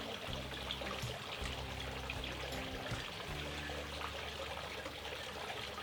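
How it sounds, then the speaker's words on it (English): Hot cream brought to a rolling boil pours steadily over chopped chocolate in a kitchen, a continuous liquid trickle and splash heard close up with no talking. "now that my cream is at a rolling boil, I'm going to pour it over my chocolate"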